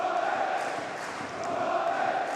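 Home supporters at a Portsmouth football match against West Brom sing and roar in a continuous distant wall of stadium chanting, swelling slightly with faint shouts on top.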